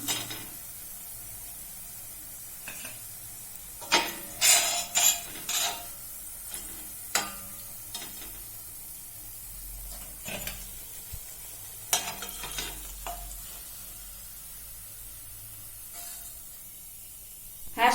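Grated potato hash browns frying in a pan, a low steady sizzle broken by intermittent scraping and spatula stirs, no talking.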